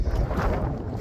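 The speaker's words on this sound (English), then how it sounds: "It's really windy." Strong wind above tree line on an exposed trail buffets the microphone, a loud low rumbling roar that surges and dips throughout the short stretch.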